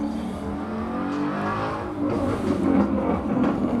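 Loud Ford Mustang engines roar steadily nearby, swelling louder toward the end as the cars pass, with no talking.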